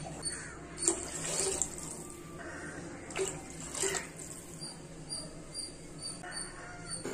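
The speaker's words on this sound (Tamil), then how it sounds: "நம்ம இப்போ இதில் 7 கிளாஸ் வாட்டர் ஆட் பண்ணிக்கலாம்." Water pours into a pan of cooked carrots and beans for rava kichadi, a soft, continuous splashing with a few louder gushes, and faint crow calls outside.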